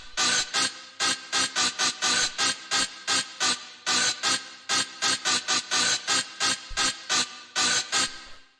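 Old school rave techno stab sample repeated as loud, punchy bright chord hits in a syncopated rhythm, each stab short and cut off cleanly, with no voices.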